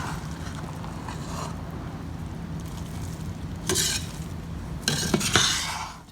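A jaggery boondi laddu mixture is stirred and mixed in a metal vessel. Soft continuous scraping and rustling builds to louder utensil clinks and scrapes near the end, with no talking.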